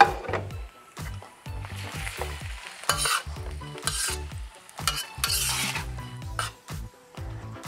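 Shrimp hit a hot pan of shrimp pad thai and sizzle loudly, with repeated scraping strokes of a spatula stirring them in a steady rhythm, close up and without talk.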